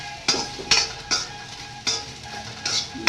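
Okra is stir-fried in a pan for North Karnataka-style bhindi palya: a low sizzle under five or six sharp scraping strokes of a spatula against the pan, spaced irregularly.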